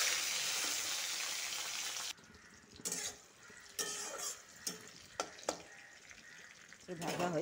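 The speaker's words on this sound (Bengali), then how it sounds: "পাঁচফোড়ন তেজপাতা দিব, টমেটো কুচি আর পেঁয়াজ কুচিটা ঢেলে দিব।" Chopped tomato and onion hit hot oil with five-spice and bay leaf, giving a loud, dense sizzle that drops to a quieter fry broken by several sharp utensil clinks and stirring scrapes.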